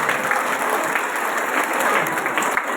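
Applause from a festival audience at a Holi event: a dense, steady clapping that fills the space, sustained and loud throughout.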